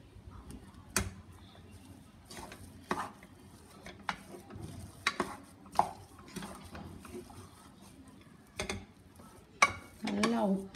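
A potato stuffing for aloo paratha is stirred and mixed in a pan, giving a series of close, irregular metallic taps and scrapes of a spoon against the pan with quiet gaps between them.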